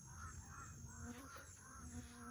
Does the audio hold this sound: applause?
no